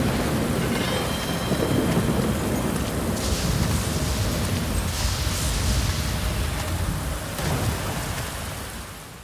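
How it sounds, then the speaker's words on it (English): Heavy nighttime downpour in the game Aliens: Dark Descent, a dense steady hiss of rain with low rumbling thunder underneath, loud and continuous before easing slightly at the end. "Just sitting out in the downpour at night"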